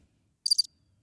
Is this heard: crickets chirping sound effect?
yes